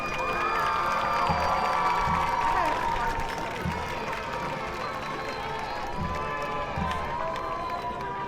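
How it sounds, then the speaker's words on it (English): A crowd at a high school football game cheers and claps for a senior princess, a sustained wash of applause and shouts over a busy stadium background. "Let's have a round of applause for your senior princess, Madison Clark."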